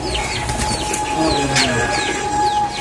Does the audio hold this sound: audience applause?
no